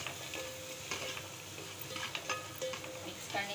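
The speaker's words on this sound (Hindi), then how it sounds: "बस इसको मिक्स कर लेंगे।" Egg fried rice seasoning with chicken powder and salt being stirred in a pan, a soft scraping and light sizzle with scattered utensil clicks over several seconds.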